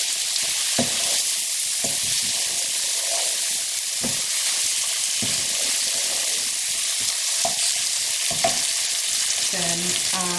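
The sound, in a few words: stirring tomatoes frying in a pan for prawn curry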